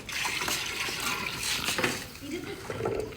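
Water splashes and pours into a large cooking pot for Muharram niaz, a gurgling, sloshing stream with some clanking of the vessel, while people talk nearby.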